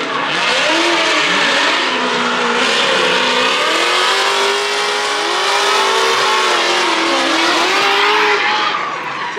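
Drift cars at a Formula Drift event in St. Louis roar continuously at close range, with loud high-revving engines and tire squeal sustained throughout, no talking.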